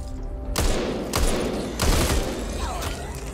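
Back 4 Blood gunfire: three heavy bursts of shots ring out in quick succession, each a loud crack with a rumbling tail, close and forceful against a busy game background.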